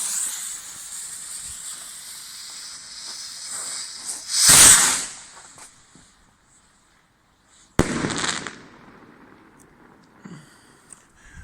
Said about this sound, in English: this is a bazooka bomb rocket in its standard format